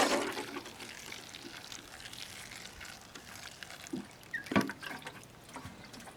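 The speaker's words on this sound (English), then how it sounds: "So I'm going to put some water in that." Water is poured into a container of fine sphagnum moss dust, making a quiet trickle with a few soft drips and splashes that are a little louder near the end.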